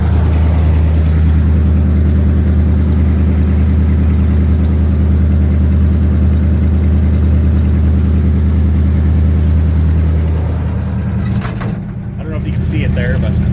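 Cockshutt 555 tractor engine idling steadily after a cold start, a loud, even low rumble throughout with a brief dip near the end.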